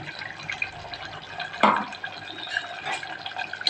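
Ground peanut paste is poured into a simmering cauliflower gravy, giving soft wet drips and splashes with one louder splat midway, close by and with no talking.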